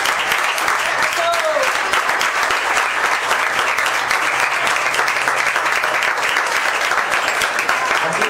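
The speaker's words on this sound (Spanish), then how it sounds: "¡Aplauso para Bunge Medien!" A crowd at an awards ceremony honouring a Hall of Fame inductee applauds loudly and continuously, a dense, even roar of clapping that lasts throughout without pause.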